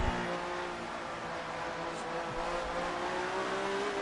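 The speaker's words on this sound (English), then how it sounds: "The sound of 1976, right there in the 312 T2" A 1976 Ferrari 312 T2 Formula 1 car in the F1 2018 racing game produces a continuous engine drone with a slowly rising pitch, heard steady and moderately loud with no talking.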